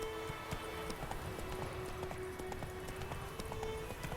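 Rapid, rhythmic hoofbeats clatter steadily as a horse gallops in the video game The Witcher 3: Wild Hunt, with a faint tonal hum underneath and no talking.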